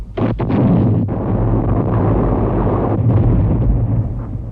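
Heavy First World War artillery bombardment on the French front, a continuous low rumble of massed gunfire with a few sharp blasts near the start, loud and sustained throughout.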